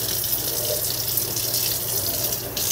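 Water runs from a kitchen faucet as canning jars are rinsed, a steady close splashing stream with no pauses.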